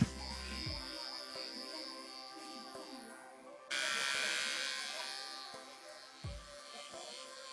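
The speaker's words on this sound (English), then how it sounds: "And once again I go over it and shave everything off." A Veet Ultimate Precision trimmer buzzes steadily while shaving eyebrows, its close electric whine shifting in pitch and growing louder midway as it presses against the brow hairs, with a few soft taps and handling bumps.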